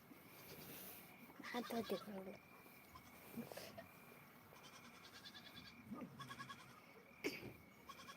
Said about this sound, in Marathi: आज सगळे एकत्र येत ना वावरामध्ये बकरा आलेत ना आपल्या तिथं